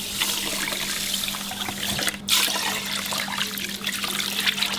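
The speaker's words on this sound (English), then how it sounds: "And the first thing to do is to rinse it with water." Water runs steadily over two kilos of Thai jasmine rice as it is rinsed before making Thai chicken rice, a continuous close splashing trickle with a brief louder splash midway and no talking.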